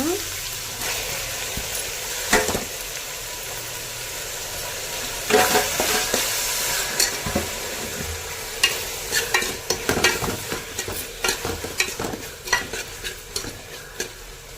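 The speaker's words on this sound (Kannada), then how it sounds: "ಇವಾಗ ಸ್ವಲ್ಪ ಚೆನ್ನಾಗಿ ಫ್ರೈ ಆಗಬೇಕು. ಇವಾಗ ಚೆನ್ನಾಗಿ ಫ್ರೈ ಆದಮೇಲೆ ಟೊಮೊಟೊ ಹಾಕೋಣ." Onion masala for chicken biryani fries in a pan before tomatoes go in, with a loud continuous sizzle and repeated scraping, clattering stirs growing busier toward the end.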